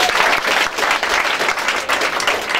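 A church congregation applauds, with dense, loud, sustained clapping from a large crowd that fills the whole stretch with no pause.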